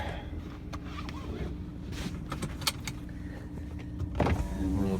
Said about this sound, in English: Roll down the windows.